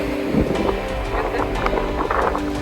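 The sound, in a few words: strong Pacific Ocean waves on the open sea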